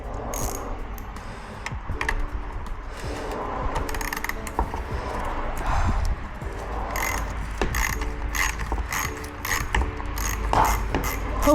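A ratchet wrench clicks steadily while loosening a rusty 5/16 bolt holding an Acura badge on an RSX Type S under rebuild, with close, continuous rapid pawl ticks and small metallic clanks, no talking.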